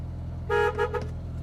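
A car horn honks in two or three short blasts close by, over a low steady engine hum.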